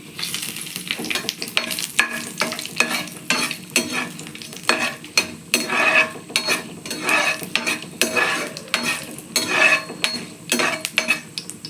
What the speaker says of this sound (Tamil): நல்லா பொரியட்டும் நல்லா செவக்க பொரியணும்